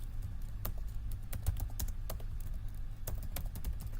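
Keys clatter on a computer keyboard as Linux commands are typed, a steady run of close, crisp clicks at an uneven rhythm over a low background hum, with no talk.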